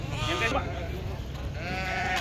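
Sheep bleating at the Pebbair sheep market, several wavering, drawn-out cries overlapping against a busy crowd murmur, with voices talking close by.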